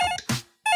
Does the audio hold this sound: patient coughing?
no